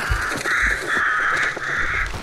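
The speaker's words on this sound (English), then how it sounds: "We'll just follow all the birds you're disturbing" Disturbed crows caw in the video game Hunt: Showdown, a rapid series of loud, harsh caws in several bursts, close and continuous with no talking over them.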